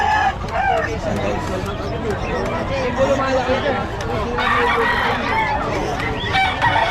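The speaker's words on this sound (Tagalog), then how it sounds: "mga manok" Chickens cluck and roosters crow repeatedly in a busy pet market, with crowd chatter and a nearby voice speaking over the birds.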